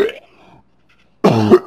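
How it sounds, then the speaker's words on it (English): A single harsh cough, loud and close, after a brief faint sound and a moment of silence. "And I gotta cough."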